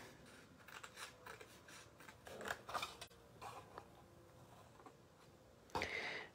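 Scissors snip through paper while making a gift envelope card for money, a series of faint, close crisp cuts and rustles with a louder closing snip near the end, no voices heard.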